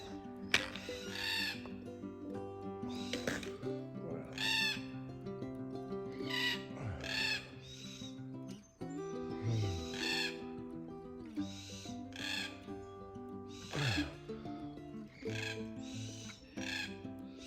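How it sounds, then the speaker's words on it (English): Red-tailed black cockatoos call repeatedly on a forest hiking trail, loud harsh rolling cries in overlapping bursts from several birds, close and clear with no talking. "we've got some black cockatoos, big black cockatoos with red-tailed black cockatoos"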